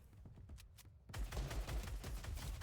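Rapid bursts of Fortnite gunfire, a few sharp shots early on, then a dense, loud volley of overlapping automatic fire that continues to the end.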